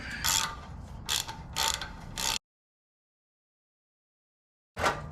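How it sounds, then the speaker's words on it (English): A socket wrench ratchets bolts tight on a Cub Cadet Model 2206 mower. Four short, close bursts of clicking are followed by silence, then one more burst. "I'm gonna take the socket wrench. I'm gonna go ahead and tighten these up."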